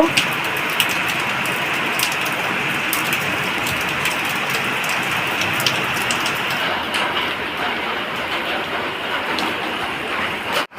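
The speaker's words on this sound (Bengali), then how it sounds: "আরো জোরে বৃষ্টি চলে এলো" Heavy rain from Cyclone Remal pours down in a loud, dense, continuous roar of drops on surfaces, steady for the whole stretch before a sudden dip at the very end.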